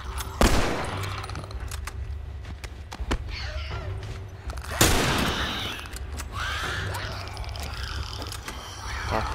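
Gunshots from the video game The Last of Us Remastered, two sharp loud bangs with scattered smaller clicks and shots in between, heard over faint game ambience.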